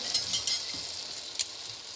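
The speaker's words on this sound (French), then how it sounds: "Dès que ça commence à blanchir autour, là, je le retire et je le plonge dans l'huile à côté." Moroccan beignet dough fries in hot oil with a bright, close crackling sizzle, punctuated by several quick pops and spatters over two seconds, without any talking.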